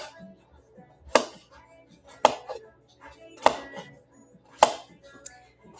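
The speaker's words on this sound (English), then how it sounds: "So we're gonna slice these right on up." A knife slices vegetables thinly on a cutting board with five sharp, evenly spaced chops about a second apart, close and clear over a quiet kitchen background.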